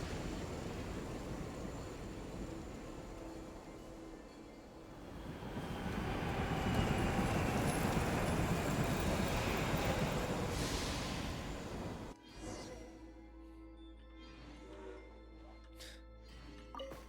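A train moves through the frozen tundra of Snezhnaya in Genshin Impact, giving a steady rolling rumble that swells louder midway, then drops to a quieter hum with faint game music.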